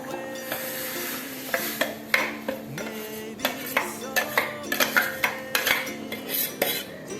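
Ground spice paste goes into a simmering papaya curry in a pot and is stirred, giving a steady run of spoon scrapes and metallic clinks against the pan over a low sizzle, rhythmic and close, with no voices.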